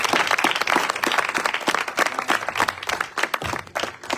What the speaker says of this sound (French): Est-ce que nous pouvons acclamer pour lui pour l'honorer?